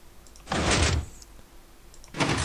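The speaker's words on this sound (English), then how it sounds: "This is when I just got the hang of how to make piston-based doors." Sticky piston door in Minecraft, four sticky pistons pushing iron blocks: two broad whooshing mechanical bursts, a longer one near the start and another at the end, standing alone over faint background.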